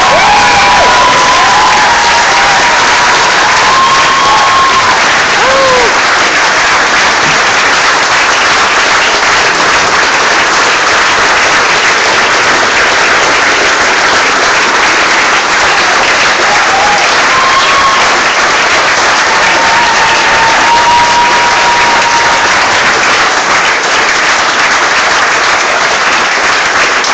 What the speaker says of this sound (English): I want everyone to give a massive round of